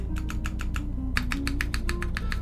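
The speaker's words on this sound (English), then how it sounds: "Yeah, the stabilized keys do sound great." Typing on a mechanical keyboard with lubed red ink switches: a rapid, even run of crisp close clacks in two bursts with a short pause between, over a steady low hum.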